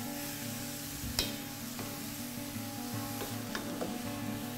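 Zucchini with its skin on cooking in water in a pan, a steady low sizzle and simmer with a few faint stirring scrapes and clinks, no talking.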